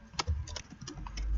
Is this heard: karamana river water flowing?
no